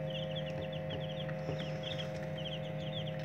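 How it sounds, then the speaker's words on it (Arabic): A flock of about twenty day-old white broiler chicks peeps continuously in a lively overlapping chorus over a steady low mechanical hum, fairly close. "ادي الكتاكيت"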